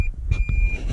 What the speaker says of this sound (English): It gives you a little bit of a beep when you are in reverse, just to let you know that you're in reverse